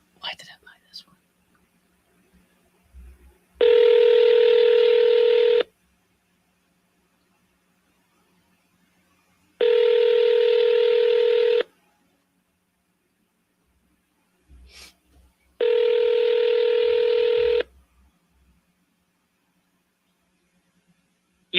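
Three long steady touch-tone beeps sound while a phone number is dialed to call a seller, each about two seconds long and evenly spaced, with faint handling noise in between.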